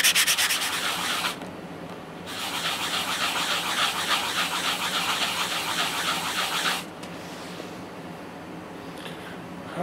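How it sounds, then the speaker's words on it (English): A sharp-edged ring made from a coin is rubbed against sandpaper, giving steady, close scratchy grinding strokes with a brief pause near the start and a quieter stretch toward the end. "you take your sponge or your sandpaper and you just put your ring down and you just sand that down real"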